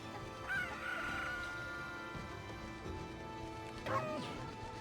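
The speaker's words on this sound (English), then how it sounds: "Oh, no, the chicken escapes." Chickens cluck and squawk in the video game Okami HD, short bird calls rising over a busy bed of game music and effects, with a louder squawk near the end.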